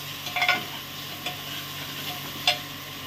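Onion, capsicum and paneer frying together in a pan, stirred with a few scraping clatters near 0.5 s and 2.5 s over a soft steady sizzle.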